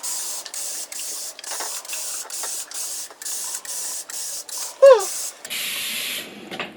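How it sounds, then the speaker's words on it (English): A handheld spray bottle mists water onto the back of raw canvas in a quick run of short, hissy bursts, about a dozen close pumps, followed by a brief voice and a longer spray at the end. "I'm gonna thoroughly spray the back of this so that it can stay moist."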